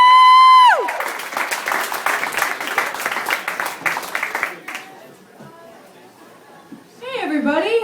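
A comedy club audience applauds and cheers as a comedian takes the stage: a dense burst of clapping and whoops that swells, then fades into crowd chatter and a voice speaking.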